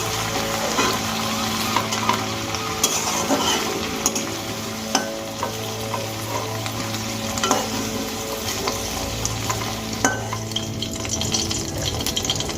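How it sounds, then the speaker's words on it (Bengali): Okra (bhindi) fries in hot oil for a dahi bhindi dish, giving a steady close sizzle throughout with occasional stirring clinks and scrapes, and no voices. "এখানে ভেন্ডিগুলো আমার ভেজে নেওয়া হয়ে গেছে।"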